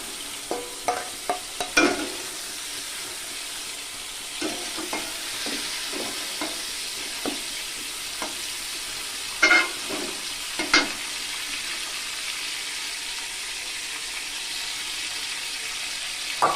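Prawns frying in hot oil give a steady, low crackling sizzle throughout, broken by several sharp clicks and scrapes of a utensil against the pan, with no one talking.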